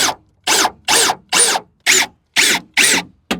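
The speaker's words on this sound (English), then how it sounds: "we're going to go ahead and use self-tappers to tap them into the factory screw holes" Power drill driving self-tapping screws into the factory speaker screw holes of a Scion xB, sounding in eight loud, close, evenly spaced bursts of whirring, with a short final burst cut off at the end.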